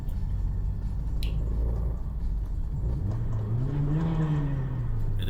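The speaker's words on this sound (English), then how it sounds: "Bit of revving in a tunnel." A 1997 Toyota Celica GT4 revs inside a road tunnel, its engine note climbing and falling in a rising pitch sweep over a steady loud rumble, with the echo of the enclosed space.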